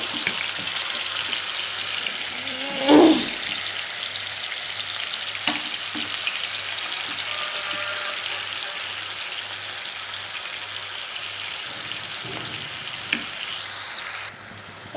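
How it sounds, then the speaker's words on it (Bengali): Onion paste fries in a hot wok, or karahi, giving a steady sizzle with a sharp burst near the start as it hits the oil, followed by occasional stirring scrapes and clinks. "কড়াই গরম হয়ে গেছে এর ভিতরে দিয়ে দিব হচ্ছে পেঁয়াজ পেস্ট"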